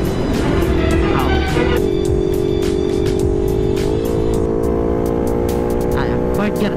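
A CFMoto NK 400 motorcycle pushes toward top speed with a loud, sustained engine tone that climbs in pitch. Wind rush sits under it, and one gear shift is heard partway through.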